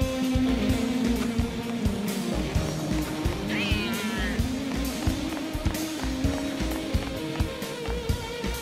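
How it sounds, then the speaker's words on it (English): A cat meowing in the video game Final Fantasy XIII-2, a brief wavering meow near the middle, set under a continuous rhythmic music and game background with a dense pulsing beat. "But that's just a cat."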